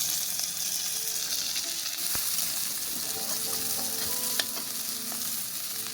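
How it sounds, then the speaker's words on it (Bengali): Potatoes fry in a pan with salt and turmeric, a steady close sizzle throughout with occasional scrapes and clinks of stirring. "আর ভালো করে ভেজে নেবো আলুটা"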